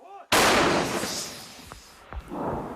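A Ukrainian Gvozdika self-propelled howitzer fires one loud sudden blast that booms and rolls away into a long decaying rumble, with faint clanks and movement afterward.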